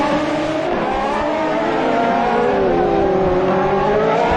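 Race cars battling through the turns at Dover Raceway in Jamaica, one car sliding out of a corner, with a loud, continuous engine roar and pitch shifting as the cars rev and pass, and no talk.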